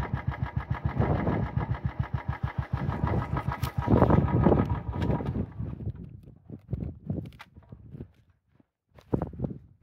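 A motorcycle on the high mountain road at Gata Loops in Ladakh runs with a loud, throbbing engine close by, then fades into rougher, uneven bursts as it moves along, with no talk.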